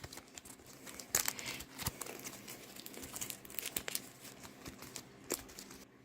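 A pile of game cards is shuffled together by hand, giving a steady crinkly riffling and sliding at close range, quiet and without talk.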